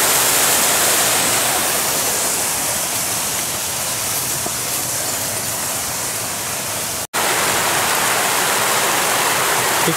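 Loud, steady rush of a flowing mountain stream in the Hidaka Mountains, Hokkaido, constant throughout, with one very brief dropout near the end.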